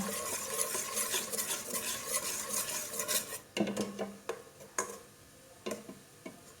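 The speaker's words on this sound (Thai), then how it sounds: "เราจะ ผัดเครื่องแกงก่อน ใส่กะทินิดเดียว" Thai curry paste is stir-fried with a little coconut milk for a beef and pumpkin curry. A spatula scrapes and knocks against the pot in quick, irregular strokes over a soft bubbling sizzle, heard up close with no talking.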